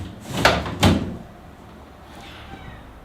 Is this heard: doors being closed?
yes